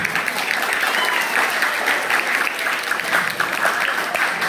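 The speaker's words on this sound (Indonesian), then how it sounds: "Tepuk tangan." Group of participants clapping at the close of a community session, a loud, continuous burst of many hands applauding nearby, sustained evenly for several seconds with faint crowd murmur underneath.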